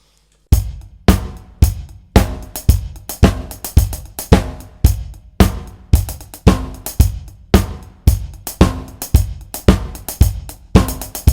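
After a brief silence, a drum kit plays a loud, close groove that shifts between 8th-note and 16th-note hi-hat patterns over a steady kick and snare backbeat, with a few extra fills, continuing without speech.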